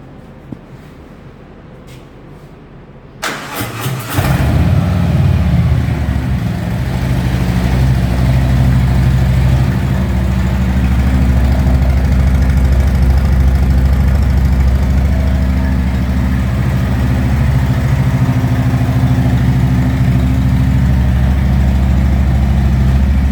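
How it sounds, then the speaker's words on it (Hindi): A motorcycle engine starts with a sudden roar, then settles into a loud, steady, rumbling idle that continues throughout with no voices. "बाइक जब स्टार्ट हुई तो मैं कुछ बोल रहा था, पर हमारी आवाज़ तो ऐसी दब गई अंदर जाके इसके एग्जॉस्ट के सामने"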